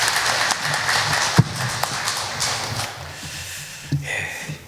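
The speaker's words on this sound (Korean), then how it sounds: "하늘 경외 박수 올려드리겠습니다" A church congregation at a Sunday worship service applauds, steady dense clapping filling the room at moderate volume, slowly thinning toward the end.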